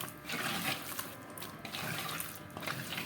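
Water trickles and pours steadily into a batter being mixed for a fish curry dish, a close, continuous splashing flow with no talking.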